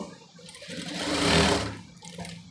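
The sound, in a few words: sewing machine stitching maxi dress neck strip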